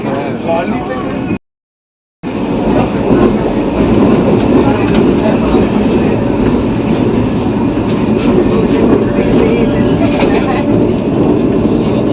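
A Vande Bharat Express rumbles along the tracks in a loud, steady roar heard from onboard, with a brief cut near the start and voices talking under the noise.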